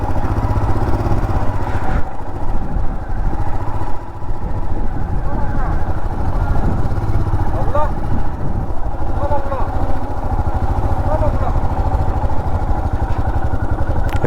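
A motorcycle engine idles steadily at a Brahmaputra river ferry ghat on the way to Majuli, with wind noise and someone talking over the constant mid-pitched rumble.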